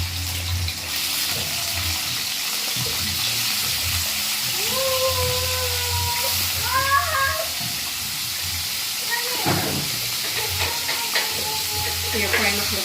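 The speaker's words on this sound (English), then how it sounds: "What I normally like to do is to fry my saltfish first." Saltfish sizzles and fries in margarine in a pot for Jamaican steamed cabbage, a steady loud hiss with occasional stirring scrapes and clanks, while a faint voice and a brief squeaky sound rise over the frying.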